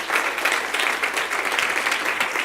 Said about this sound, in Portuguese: E se você crê, aplauda forte o nome dele.